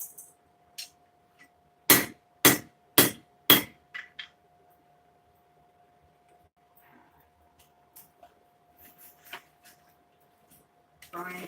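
Four loud, sharp metal strikes in quick succession as a hammer straightens the spine of a knife blade, followed by a few fainter taps and scattered handling noises in a quiet shop.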